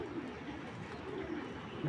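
Racing pigeons in a loft give low, murmuring coos that overlap at a steady, quiet level, with someone speaking faintly in the background.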